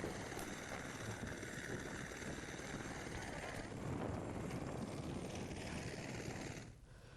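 A helicopter carries tourists up to snowy high peaks in Uttarakhand. Its steady broadband rotor and engine roar stays constant and fairly distant, blending with wind-like rush for several seconds before easing slightly at the end.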